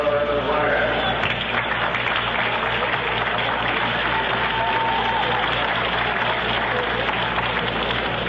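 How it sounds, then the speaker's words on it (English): Scattered applause from Giants fans at a 1970 Mets versus San Francisco Giants baseball game, a light, steady patter of clapping spread across a distant crowd throughout. "Ryan getting a smattering of applause from Giant fans who appreciate good baseball"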